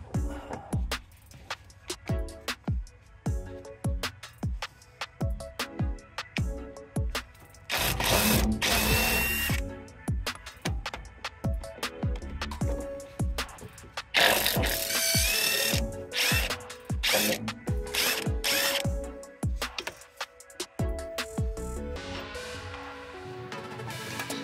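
A ratchet and a power tool with a 17 mm socket removing the lower strut mounting bolt on a 2010 Acura during a coilover install: rapid ratchet clicks alternate with loud bursts of whirring drill, close and sharp over about twenty-four seconds.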